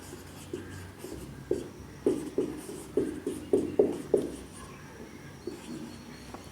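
Chalk or marker taps and strokes against a board while notes on the circulatory system are written, a quick run of sharp scratchy hits clustered in the middle, fairly close and alone without talk.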